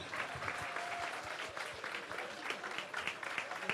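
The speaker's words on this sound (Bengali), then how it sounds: "ওর জন্য একটা করতালি দিন" A small indoor audience at a Bengali cultural gathering claps together, a brisk patter of many hands that stays fairly even and somewhat distant, with no cheering.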